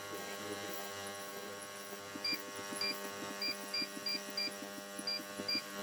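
An ultrasonic cleaner hums faintly and steadily as it cleans a dirty Epiphone guitar pickup. From about two seconds in, short rhythmic buzzing pulses repeat over the hum, and no one speaks.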